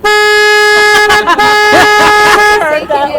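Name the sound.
foghorn of a river tour boat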